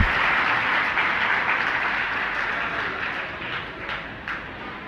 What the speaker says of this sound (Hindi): एक बार अपने लिए ताली बना लो